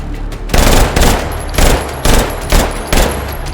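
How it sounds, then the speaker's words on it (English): A machine pistol fires in the VR shooter H3VR: six loud, rapid bursts about half a second apart, each a harsh rattling stream of shots, with no talking. "Machine pistols are terrible."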